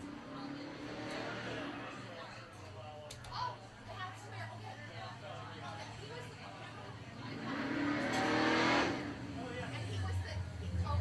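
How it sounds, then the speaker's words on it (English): A truck engine revs and swells nearby over steady road noise, with people talking in the background. "You guys heard that truck."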